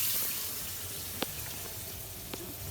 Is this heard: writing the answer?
no